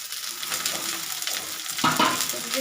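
Chillies drop into a hot pan and sizzle with a loud, close, continuous frying hiss that flares louder near the end.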